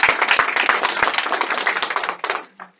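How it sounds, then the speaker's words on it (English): Applause from an audience at a public gathering, a burst of loud, close hand claps that thins out and stops near the end. "Let's give them a round of applause."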